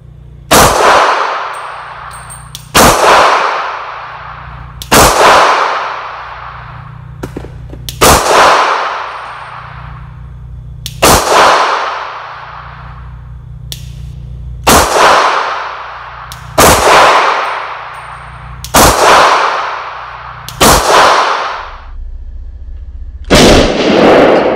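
Pistol fired with a standard recoil guide rod, about nine loud, sharp shots spaced a couple of seconds apart, each ringing out into a long echoing decay over a low steady hum.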